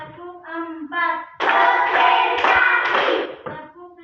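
Primary school class standing and clapping hands together on a teacher's count: a voice sounds first, then a dense, loud burst of many claps lasting about two seconds before fading.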